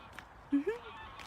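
Two short, nasal honking calls from a bird, close together like a duck's quack, over quiet outdoor background in Laos.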